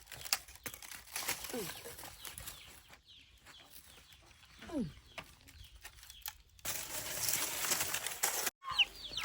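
Chickens are chased, giving sporadic clucks and squawks with bursts of flapping wings and crinkling rustle, while people's voices come and go nearby.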